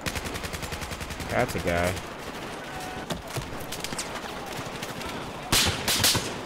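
Rapid automatic gunfire in a Battlefield 4 multiplayer match, with bursts of steady rattling shots and a few heavier cracks near the end, while a player talks briefly over it.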